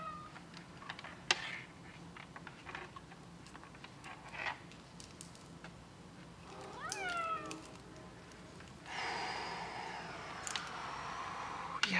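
A pet cat named Tuco meows several times in a workshop full of warm electronic equipment, the cries rising and falling over a faint background of tapping, clicks and soft handling noises.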